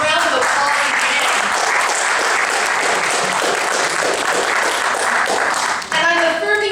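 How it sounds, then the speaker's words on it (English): Audience at a community faith forum applauds panelists, a dense, sustained wash of many hands clapping that stays loud throughout before a voice comes in near the end. "Let's give them a round of applause again."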